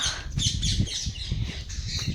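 Harsh, raspy parrot squawks repeat in quick succession, loud and close, one call running into the next.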